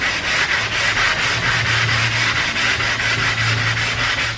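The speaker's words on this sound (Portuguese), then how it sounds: "Você vai dar uma lixadinha." Sandpaper worked by hand over a car body panel in a home paint job, a steady close rasping scrape in quick regular strokes that runs continuously without talk.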